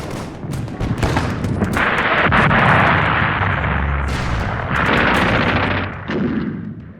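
German artillery pounds away in a heavy bombardment: loud overlapping booms and crackling blasts come in rapid waves, a dense, roaring barrage that dips briefly before surging again.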